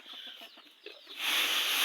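Chickens at a home in Houaphanh province cluck softly in a few quick, faint calls, then a louder burst of hissing noise takes over at the end.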